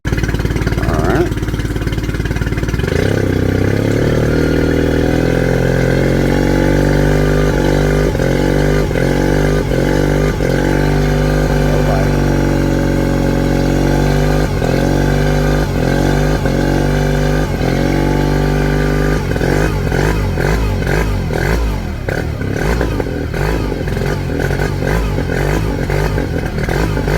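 A Suzuki DF20A outboard motor running rough, loud and close, with a steady uneven chug that picks up and shifts pitch partway through, then turns choppy and sputtering toward the end.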